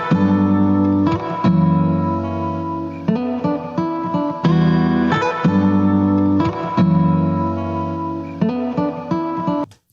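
Musical audio track played back with an Audacity reverb effect applied, a loud sustained tonal passage in repeating phrases with a washy tail, no speech.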